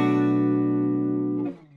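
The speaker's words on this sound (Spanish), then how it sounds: "Este es el sonido de mi guitarra sin efectos." Electric guitar played clean with no effects: a single sustained chord rings out evenly, then is cut off abruptly, leaving a short fading rustle.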